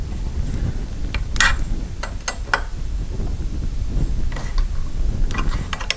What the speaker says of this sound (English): then we're going to tighten up these set screws right here